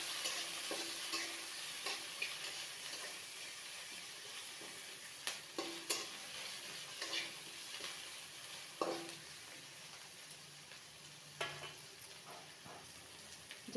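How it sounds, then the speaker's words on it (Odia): Onions fry in a pan after mustard seeds, a constant soft sizzle with regular scraping strokes and light taps as they are stirred, fairly quiet and without any talking. "ପିଆଜକୁ ଆମେ ଟିକେ ଭଲ ଭାବରେ ଭାଜି ନେବା।"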